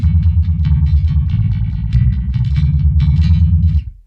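An Electra MPC Outlaw X-620 electric bass plays with its onboard effect turned fully up, giving a thick, warbling, distorted low tone that runs continuously and loud for about four seconds before cutting off.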